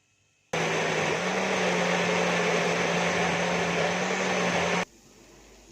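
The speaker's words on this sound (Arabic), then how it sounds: "هضربهم في الخلاط عشان الكميه كبيره زي ما انتم شايفين كده" A steady, loud motor whir of a blender blending tomatoes and vegetables runs evenly for about four seconds, starting and stopping abruptly, with no talking.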